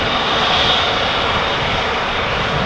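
At Amsterdam Schiphol Airport, an airliner's jet engines give a steady, loud broadband roar that holds continuously without pause.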